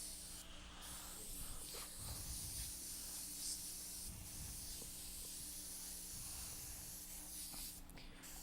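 Airbrush spraying paint in short airy hissing bursts over a steady background hum, close and moderately loud, with no talk.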